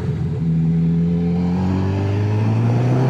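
A 2021 Honda CB1000R Black Edition motorcycle engine drops in pitch then rises as a lower gear engages while slowing into a corner, a loud, close, continuous drone with a short throttle blip.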